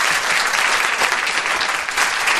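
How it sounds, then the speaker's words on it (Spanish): Dense, steady applause from a studio audience, many hands clapping close and loud without pause for the whole stretch. "Entonces he pedido un aplauso para él"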